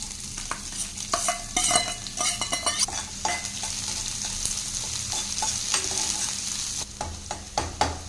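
Finely chopped large onion sizzles in hot oil in a pan, with steady frying hiss and frequent scraping, clattering stirs from a spatula, close and alone with no talking.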